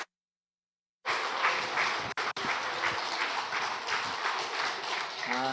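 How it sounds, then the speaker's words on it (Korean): A church congregation at a mission dedication service applauds to welcome a pastor to the front, steady dense clapping that starts after a second of silence and continues with two brief dropouts. "우리 나오실 때 우리와 같은 박수로 환영해 주시기 바랍니다."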